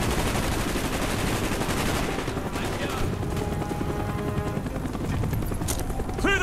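Dense, continuous machine-gun fire and battle noise in the Call of Duty Black Ops village mission, loud and close, with rapid bursts overlapping and dying down near the end before a final sharp report.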